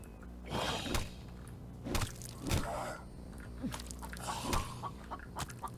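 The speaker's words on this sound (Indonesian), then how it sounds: "Dih, ada ayam cuy." In the zombie video game The Infected, a chicken clucks in scattered, soft bursts, mixed with occasional whooshing movement sounds and no talk.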